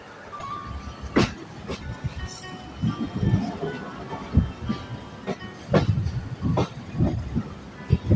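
A passenger train travels from Bhatiapara to Rajbari with a steady rumble, and wheels clack rhythmically over rail joints alongside occasional metallic clinks and hiss, heard from inside the carriage.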